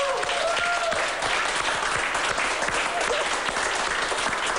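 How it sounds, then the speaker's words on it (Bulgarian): Steady studio audience applause at a Music Idol singing competition, continuous and fairly loud throughout, with a faint voice briefly underneath. "Аплодисменти!"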